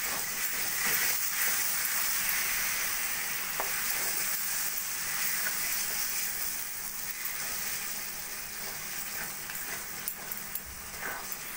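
Mango pieces and cane jaggery frying together for pickle, a steady close sizzle and bubbling hiss with faint stirring scrapes, no voices.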